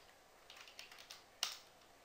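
Soft, sparse keystrokes on a computer keyboard, a handful of faint taps spread over two seconds with one sharper click near the end, heard alone in a quiet room.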